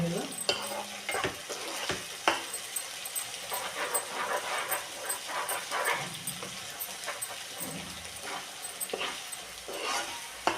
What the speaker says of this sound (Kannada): ಪಾಲಕ್ ಸೊಪ್ಪನ್ನು ಚೆನ್ನಾಗಿ ಎಣ್ಣೆಯಲ್ಲಿ ಹುರ್ಕೋಬೇಕು, ಅದನ್ನು ಫ್ರೈ ಮಾಡ್ಕೋಬೇಕು.